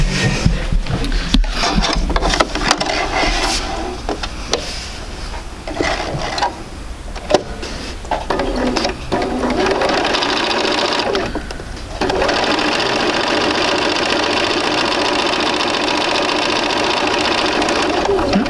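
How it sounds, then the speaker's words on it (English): Home sewing machine stitching quilt block pieces, close whirring runs broken by fabric handling and clicks early on, then a long continuous steady stitching hum in the second half. "So let's go ahead and sew that."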